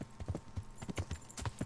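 Horse hooves clip-clop steadily in the medieval video game Kingdom Come, a quick regular rhythm of sharp close knocks, fairly quiet and with no talk over them.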